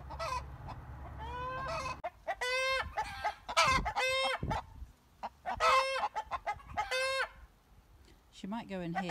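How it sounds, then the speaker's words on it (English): A broody hen clucks repeatedly in drawn-out, throaty bursts, loud and close, with short pauses between calls and a higher squawk at the end. "There we have a broody hen."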